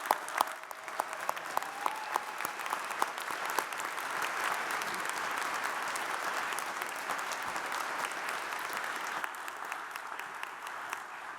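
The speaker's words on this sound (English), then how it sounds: "Let's have one more round of applause for all of our PhD recipients" A large audience at a graduate school investiture ceremony gives a sustained round of applause for doctoral degree recipients, dense steady clapping filling the hall for several seconds before thinning slightly near the end.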